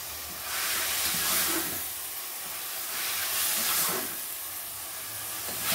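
Meat sautéing in a pan with calabresa sausage, black pepper and salt for brown rice with meat, a steady steamy hiss and sizzle that swells and eases in waves, fairly close, with no talking.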